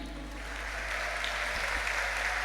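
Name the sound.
audience applause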